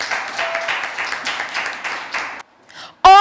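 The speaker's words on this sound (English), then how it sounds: "Please give her a round of applause." Audience applause fills a school debate hall, a dense, steady patter of many hands that lasts over two seconds and then stops abruptly, followed by a brief quiet and the start of a voice.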